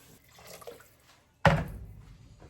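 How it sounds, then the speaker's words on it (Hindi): Water splashes into a pan of paneer and peas curry in a home kitchen, a single sudden pour after quiet clinks, loud and close, then fading into a short trickle. "अब इसमें हम थोड़ा डालेंगे पानी"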